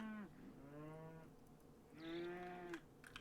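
Cattle in the RimWorld video game moo twice, two long drawn-out lowing calls with a short gap between them, clear and fairly close over a quiet background.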